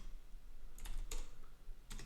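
A few quick bursts of computer keyboard typing, short clusters of clicks spaced apart over a low background hum, close but fairly quiet.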